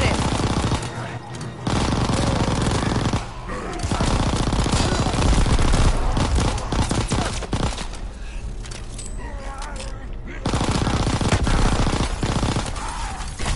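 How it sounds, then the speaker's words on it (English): Rapid automatic weapon fire in Call of Duty WW2 rattles in long, dense bursts with brief pauses, loud and close, while players talk over the shooting. "Shoot it in the back, shoot it."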